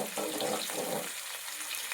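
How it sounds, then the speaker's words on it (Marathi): Cumin and mustard seeds frying in hot oil for a mixed vegetable pulao, giving a steady, close crackling sizzle that thins out toward the end, with no talking. "त्यानंतर आता थोडेसे जिरे मोहरी टाकत आहोत आपण यामध्ये"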